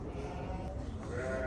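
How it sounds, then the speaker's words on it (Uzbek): Sheep in a large flock bleat continuously and fairly close by, with layered overlapping calls and a low background hubbub. "Qo'ylar ko'p, gap yo'q ekan."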